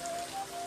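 Steady rain falls around a shelter at night, a dense even patter with no talk over it.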